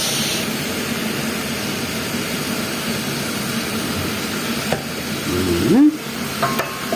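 Beef stirred and frying in a pan with dark and light soy sauce and no oil, a steady close sizzle with scraping stirs, rising to a louder hiss and clatter near the end.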